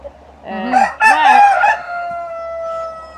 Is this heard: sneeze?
no